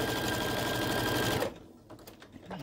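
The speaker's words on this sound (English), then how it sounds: "I'm going to keep sewing until I get to the end." Sewing machine stitching the rod pocket on a quilt, a loud, fast, steady mechanical whir close by that stops abruptly after about a second and a half, leaving quiet fabric handling.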